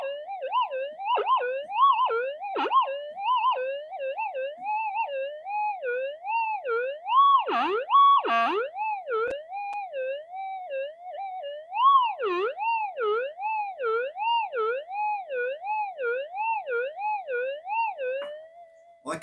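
A Minelab clone metal detector squeals erratically, a loud warbling tone sweeping up and down in rapid repeating cycles, with brief clicks and wobbles between bursts.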